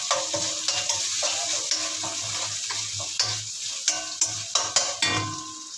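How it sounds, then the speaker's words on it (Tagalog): Onions sautéing in a hot pan for a pork leg dish, with steady close sizzling and repeated sharp scrapes and clacks of a utensil stirring. "Tapos, igigisa natin dito yung ating sibuyas guys."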